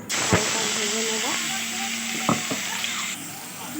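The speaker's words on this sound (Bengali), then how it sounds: "সামান্য একটু তেল দেব চিকেনটা আদা রসুন পেস্ট আর নুন গোলমরিচ দিয়ে একটুখানি" Chicken pieces coated in ginger-garlic paste, salt and pepper sizzle steadily in a little hot oil for pizza topping, with a few sharp clinks and scrapes of stirring over the continuous close hiss.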